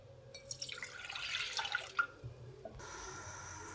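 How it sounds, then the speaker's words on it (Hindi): About two cups of milk pour into a cooking pot for hot almond milk, a short splashing, trickling stream that ends in a soft drip and settles into a quiet hiss. "एक पतीला ले लेंगे, उसमें क्या करेंगे दूध डालेंगे"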